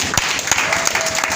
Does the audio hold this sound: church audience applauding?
yes